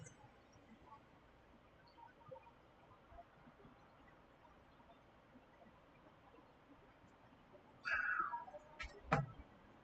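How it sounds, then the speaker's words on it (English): A grumpy old cat being bothered by a young cat, heard as a short burst of meowing and yowling late in the clip, slightly distant over a steady background hum. "What you are hearing in the background is a grumpy old cat being bothered by a stupid young cat."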